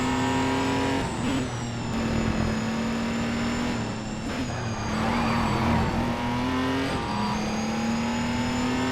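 Race car engine and whining gearbox in the racing game Race Driver: Grid, a loud, steady drone with the pitch rising and falling through gear changes as the car runs close behind.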